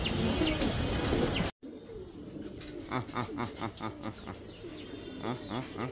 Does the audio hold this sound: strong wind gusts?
no